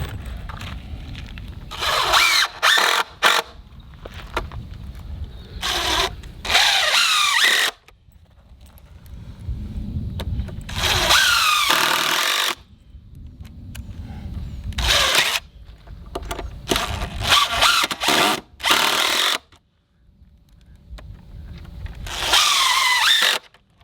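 A power drill drives screws into a wooden pallet being built as a box blade hauler, in repeated whining bursts of a few seconds each that are separated by quieter gaps.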